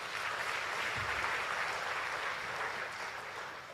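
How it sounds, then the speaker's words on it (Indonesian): An audience at a Buddhist dhamma talk gives steady applause for friends and a foundation, a soft, fairly distant wash of many hands clapping continuously. "sekali lagi tepuk tangan untuk teman-teman dan yayasan"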